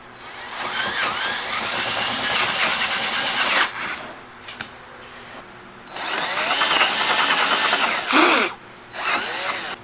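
A power drill boring through wood for a table build whines loudly in three bursts, the motor rising to full speed, cutting out, then starting again.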